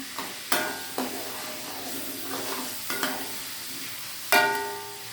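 Ground turmeric, coriander and garlic paste sautéing for Javanese mangut fish, a steady soft sizzle with intermittent stirring scrapes and a few louder clanks of utensil against pan, close up and without talk.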